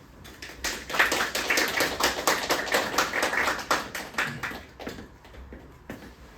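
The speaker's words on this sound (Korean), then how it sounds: "자, 박수로 환영해 주시죠." A small audience at a high school admissions information session claps in welcome, with a quick run of distinct, close hand claps that thin out and fade after a few seconds.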